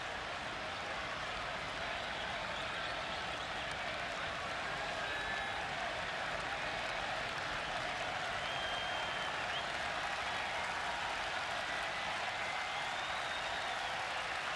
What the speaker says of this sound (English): Crowd roaring with 2 strikes on the hitter.